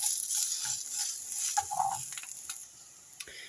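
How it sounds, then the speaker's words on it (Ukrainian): Garlic scapes sizzle softly with light stirring in a pan, with faint scraping and clicks of a utensil, quiet and close, no voices. "І ось мої стрілочки вже доволі гарно обсмажились."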